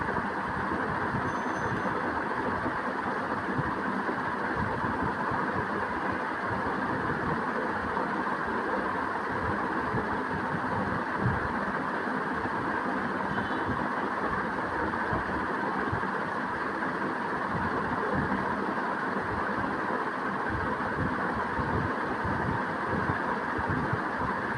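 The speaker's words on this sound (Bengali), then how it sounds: "river boat" A river boat's engine drones steadily and continuously while riding aboard at a holiday park, a dense low rumble with a constant hum and no pauses.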